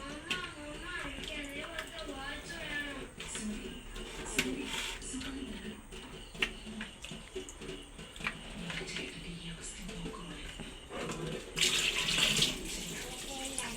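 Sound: water draining away

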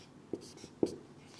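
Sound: writing by hand

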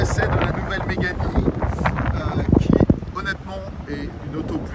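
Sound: wind blowing outdoors on a windy day

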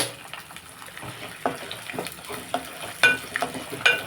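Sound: tempering ingredients frying for mustard tamarind rice

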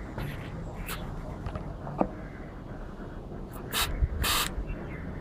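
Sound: refillable pressurised chain spray bottle spraying

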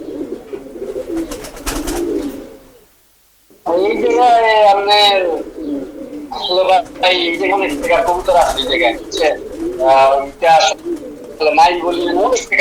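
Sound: pigeons cooing

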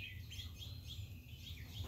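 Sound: birds chirping near garden feeders

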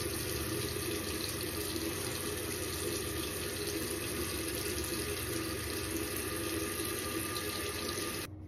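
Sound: tap water running while washing face with cleanser

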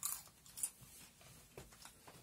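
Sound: crunching on a dried shrimp head

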